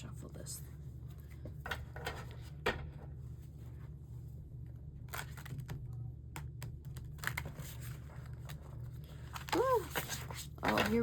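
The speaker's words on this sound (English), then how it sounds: "I'm gonna shuffle this." Soft, irregular riffling and tapping of tarot cards being shuffled close by in a quiet room, with a brief voice near the end.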